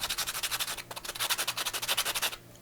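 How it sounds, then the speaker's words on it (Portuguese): Coarse 80-grit sandpaper rubs back and forth over miriti palm wood in quick, even rhythmic strokes with a brief pause, close and fairly quiet. "A gente pega uma lixa 80 para desgastar."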